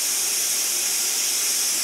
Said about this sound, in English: Turn down the pressure cooker just to maintain pressure.